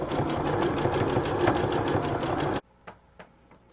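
A sewing machine stitches strips of fabric together, a steady rapid mechanical chatter running loud and close for a few seconds before stopping abruptly, followed by a couple of faint knocks.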